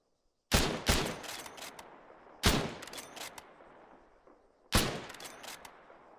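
Rifle shots ring out in Arma 3, three loud sharp cracks spaced a couple of seconds apart, each with a fast burst of follow-up pops and a long fading echo trailing into quiet, no voices over them.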